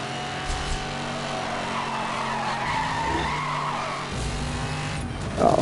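A car in the racing game Need for Speed: Hot Pursuit Remastered brakes hard and skids, tyres squealing over a steady engine drone, ending in a louder scrape near the close; no voices.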